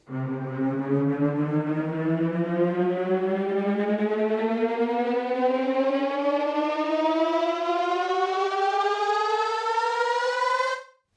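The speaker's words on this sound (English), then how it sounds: "allow that pitch to establish itself for a moment before it then climbs up through the" A synth riser in Logic Pro holds its starting pitch briefly, then bends steadily upward through two octaves in one smooth, loud, buzzy sweep lasting about ten seconds before cutting off.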